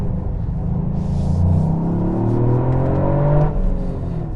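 Toyota GR Yaris 1.6-litre, 261 hp three-cylinder engine revving, a loud rising growl that climbs in pitch and then drops back, heard alone without talk.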